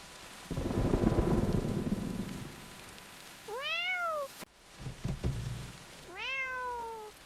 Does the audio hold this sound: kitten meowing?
yes